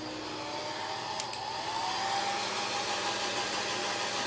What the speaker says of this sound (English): I'm gonna take my hair dryer again, and I'm just gonna blow on the transfer.